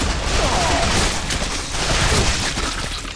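Rapid bursts of video game gunfire crackle loudly and continuously, a dense fusillade of shots with sharp impacts filling the moment.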